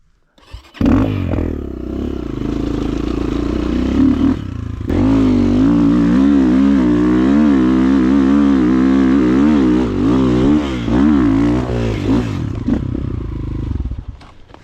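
Chinese enduro motorcycles, a 300cc against a 250cc, rev up and race, their engines roaring loud and close with rising and falling pitch as throttle changes, sustained for over ten seconds before fading.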